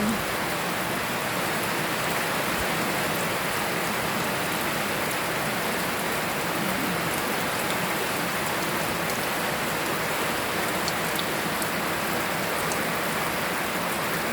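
Steady heavy rain pours down continuously, a dense even hiss of drops hitting surfaces nearby, with no talking, while an elephant plays in the rain.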